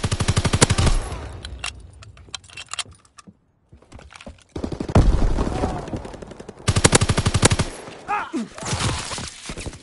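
Video game gunfire in a military strategy match with airdrops and recon flights: loud bursts of rapid automatic fire with sharp repeated cracks, broken by a brief quiet gap before heavy firing resumes, with faint game voice lines.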